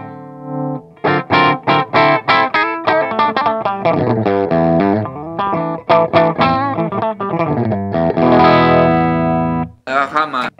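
Electric guitar through a Line 6 POD HD500X modelling a 1960 Vox AC15 amp plays loud, punchy strummed chords and choppy rhythmic stabs with brief gaps, its crunchy, bright tone ringing out alone.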